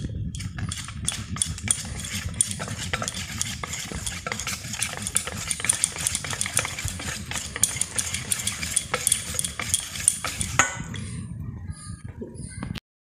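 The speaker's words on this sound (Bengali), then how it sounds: "এবার আমরা এটা সবটা ভালো করে ফেটিয়ে নেব।" Caramel cake batter with vanilla essence and egg being beaten in a bowl: rapid, continuous scraping and tapping strokes up close, steady for about twelve seconds before stopping abruptly.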